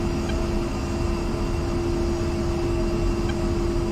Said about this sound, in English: Plane sounds freaking phenomenal.